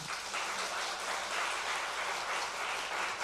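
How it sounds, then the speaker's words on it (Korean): Thankful applause from a congregation at a joint Liberation Day church service, a soft, steady wash of many hands clapping at a distance throughout, with no voices over it. "우리 역사를 생각하면서 우리 하나님께 감사 박수 한번 하십시다."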